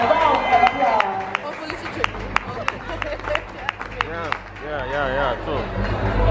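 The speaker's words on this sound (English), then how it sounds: "Please give her a round of applause." Applause and cheering from a pageant crowd in Jamaica greeting a runner-up, with scattered claps and whoops under an announcer's voice and crowd chatter across the whole stretch.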